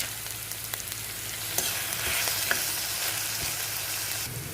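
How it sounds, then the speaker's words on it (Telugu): Onions, green chillies and curry leaves fry steadily in a pan for a curry with colocasia and tomato, a continuous bright sizzle with occasional crackles and small stirring knocks, close and even, no voices. "ఆనియన్స్ పచ్చిమిర్చి కరివేపాకు వేగుతుంది"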